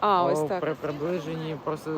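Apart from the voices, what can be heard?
No everyday noises stand out.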